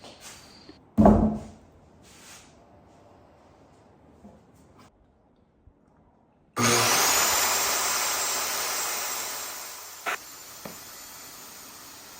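A circular saw cutting through a thick, soft pine board about two inches thick, a loud sustained whine that starts abruptly after a few quiet taps and knocks, then gradually tapers with a couple of sharp clicks.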